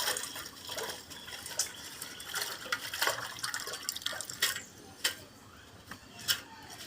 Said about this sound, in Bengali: এই যে ছিঁড়েটাকে ধুবেন।